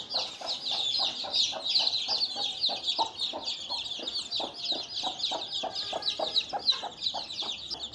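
A hen clucks repeatedly in quick, rhythmic bursts close by, with busy chirping from chicks or other birds filling the background throughout.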